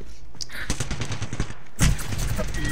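Rapid bursts of video game gunfire in a Detroit setting, a dense volley of shots followed by a louder heavier blast near the end, with faint talk underneath.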